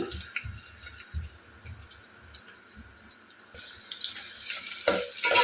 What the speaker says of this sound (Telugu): ఆయిల్ హీట్ అయిన తర్వాత ఇందులో సో ఒక మీడియం సైజ్ ఆనియన్ ఇలా సన్నగా కట్ చేసి యాడ్ చేసుకోవాలి.